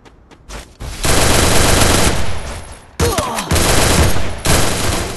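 Gunfire in a video game shooter with an MP40 in play: long, loud bursts of automatic fire separated by a short pause, rapid and close.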